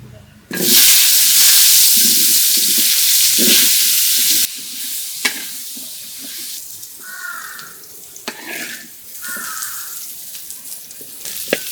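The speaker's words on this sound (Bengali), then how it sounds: "তেল দিয়ে ভাজলে এরকম একটু দূর দূর হয় মুলাগুলা ভাজি" Radishes frying in oil in a home kitchen, a loud, dense sizzle for several seconds that then drops to a quieter crackle with occasional knocks and clatter.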